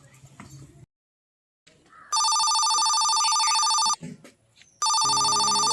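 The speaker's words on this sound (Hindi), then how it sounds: "सर का फोन।" A telephone rings in bursts, a loud electronic ring sounding twice with a gap between, set against quiet room noise and a little talk at a home in an Indian comedy sketch.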